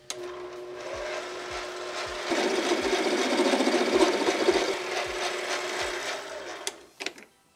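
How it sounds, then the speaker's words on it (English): A file or grinding tool works steadily against the end of a cut metal rod, squaring it and chamfering it for threading. The scraping rises louder midway, runs for several seconds, then stops with a few clanks and no talking. "I'm just gonna quickly square up the end and then put a chamfer on it so it threads properly."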